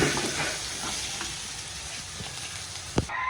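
Corned beef frying and sticking in a hot pan, giving a steady loud sizzle with a few scraping stirs and one sharp clink near the end.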